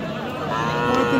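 A Deshal Sahiwal cow with her calf at Ambari cattle market in Dinajpur gives one close, drawn-out moo that rises in pitch, over faint murmuring from the surrounding crowd.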